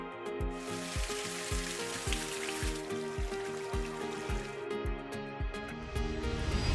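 A backyard water fountain at a desert home keeps up a continuous trickle and splash with a soft, regular pulsing beneath it, heard close and steady, with no voices.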